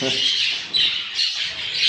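Nearby budgerigar squawks and chatters continuously, harsh and scratchy, filling the short stretch without pause.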